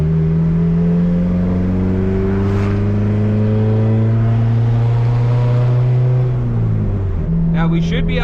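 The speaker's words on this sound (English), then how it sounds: "Now we should be able to flat foot it, and it should modulate it right around 6, 7, 8 pounds" Turbocharged, built Honda Civic D16 four-cylinder pulling at full throttle under boost control, a loud steady engine drone rising in pitch for about six seconds before a brief drop as revs fall, close and continuous throughout.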